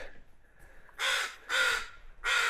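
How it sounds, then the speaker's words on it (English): Crows caw at Taku Harbor, Alaska, among old cannery ruins: three loud, harsh caws close by, evenly spaced after a quiet pause. "Yes, crows, I'm sorry. I know. I know, you're very upset."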